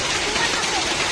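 Rain falls outdoors along a road, making a dense, continuous hiss that stays steady and fairly loud for the whole short stretch.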